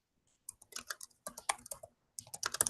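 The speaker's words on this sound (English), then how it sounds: "I hear Bev typing." Quick bursts of keyboard typing, close and crisp, in irregular clusters of clicks separated by short pauses.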